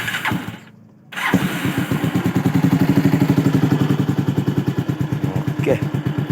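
A motorcycle engine cranks, catches after a brief pause and settles into a steady, loud, close idle with a rapid, even chugging beat.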